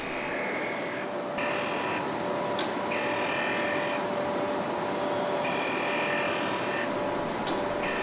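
A grinding stone is ground flat with a power tool, giving a loud, continuous high-pitched grinding whine with a steady tone, rising and dipping in short regular passes as the workpiece is moved across it.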